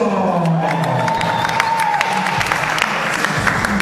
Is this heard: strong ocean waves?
no